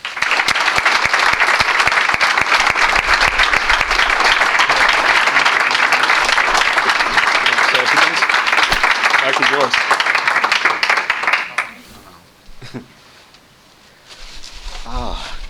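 Loud, sustained applause from a hall of fame induction audience fills the room for about twelve seconds, then fades abruptly, followed by a brief stir and a faint resumption of clapping.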